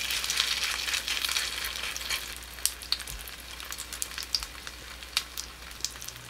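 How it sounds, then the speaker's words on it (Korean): Egg-coated kabocha squash slices fry in a pan with a steady close sizzle, broken by scattered sharp oil pops and crackles. No one speaks. "단호박에 계란을 앞뒤로 입힌 후 프라이팬에 올립니다."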